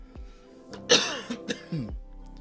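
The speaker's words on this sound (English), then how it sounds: "Yes, of course, my coughing you hear." A man coughs from a cold, a short cluster of harsh, close coughs and throat clearing in a quiet setting, with a couple of separate hacks following the loudest burst.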